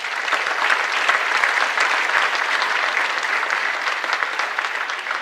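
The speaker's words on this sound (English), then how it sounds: "Please give yourselves a round of applause." A commencement audience breaks into sustained applause, a thick, continuous rush of many hands clapping at steady loudness from start to finish.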